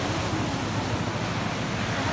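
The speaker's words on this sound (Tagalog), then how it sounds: "mas update ko lang kasi nakakatakot yung alon," Strong ocean waves at a beach resort in Dasol break as a loud, constant roar of surf, dense and unbroken with a wind-like hiss.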